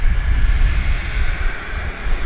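A Cessna Citation business jet roars on takeoff at Vancouver Airport, a loud, steady, broadband engine rumble with hiss that stays constant throughout, heard alone without voices.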